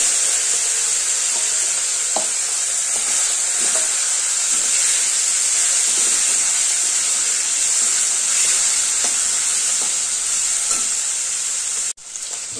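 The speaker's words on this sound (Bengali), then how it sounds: "ইলিশ মাছের মাথাগুলো আগে ভেজে নেব।" Hilsa fish heads fry in hot oil with a loud, continuous, close-up sizzle that holds evenly, then cuts off briefly near the end before resuming more softly.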